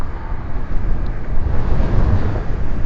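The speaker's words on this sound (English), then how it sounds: "it is very windy today" Heavy wind buffets the microphone while riding a Boosted electric skateboard, a steady low roar that swells and dips throughout.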